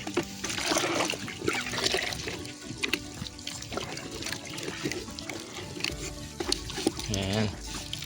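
Water poured into poultry feed on a backyard farm, a splashing, trickling pour heard close under a person's talking, ending with a brief gurgling stream.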